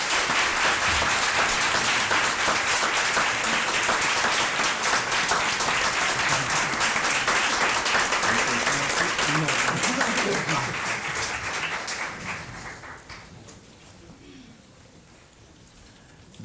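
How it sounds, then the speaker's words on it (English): A large audience applauds the Jackson Public School Board of Trustees at a board meeting, a loud, steady wash of clapping that holds for about twelve seconds before thinning out and fading to quiet. "please join me for a round of applause for the Jackson Public School Board of Trustees"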